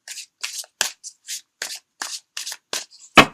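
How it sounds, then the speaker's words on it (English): Tarot cards are shuffled by hand in short, crisp bursts of riffling, about ten separate pulses close to the mic, with a sharper slap at the end and no talking. "I'm not really a flash shuffler like some readers out there. I just do the bare minimal."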